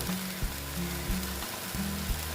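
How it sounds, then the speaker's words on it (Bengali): Green chillies hit hot oil in a pan with a steady crackling sizzle, broken by a few soft stirring knocks at regular intervals, close and fairly loud with no talk. "তারপরে দিয়ে দিচ্ছি আমি কাঁচা লঙ্কাগুলো"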